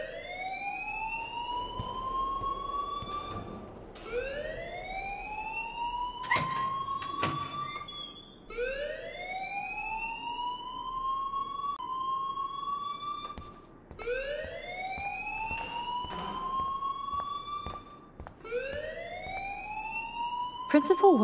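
A school alarm in the video game Life is Strange wails in repeated rising sweeps, each lasting a few seconds with short gaps between them, while voices talk over it.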